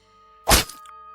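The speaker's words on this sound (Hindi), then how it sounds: "तभी उसने मेरे ऊपर कुल्हाड़ी से वार कर दिया।" A single heavy axe strike lands as a sound effect in a spoken horror story. It is one loud, dull thwack over a faint, steady musical drone, with a brief ring fading after it.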